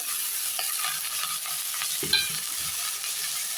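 Cleaned drumstick leaves are tossed into a pan with onions and sautéed, a continuous close sizzle with stirring scrapes and a brief clatter midway, no voices.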